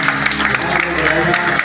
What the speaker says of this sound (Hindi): अगर अच्छा लगा तो प्लीज जोरदार तालियां।